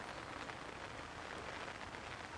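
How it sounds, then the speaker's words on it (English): Steady rain falls at Merrington Carp Fishery, a faint, even wash of patter with some wind and no talking. "Rain, rain, rain, rain, rain, rain, and more wind."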